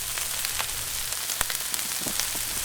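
Five rashers of bacon and mushrooms sizzle on a Weber Q 3200 griddle, a steady close hiss of frying fat with scattered pops and crackles throughout.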